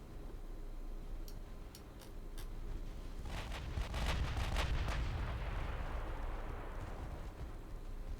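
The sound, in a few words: warship torpedo launch in naval video game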